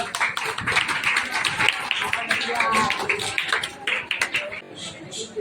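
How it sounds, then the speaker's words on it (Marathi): An audience at a school farewell ceremony applauds, with dense, sustained clapping from many hands that rises and falls slightly, fairly close and continuous throughout. "जरा टाळ्या वाजून आपण करा"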